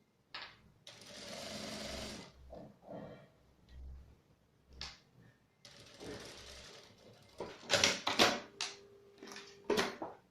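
A sewing machine stitches a fabric phone wallet in short bursts separated by pauses, each run a near, steady mechanical whir, with louder clicks and handling noises toward the end.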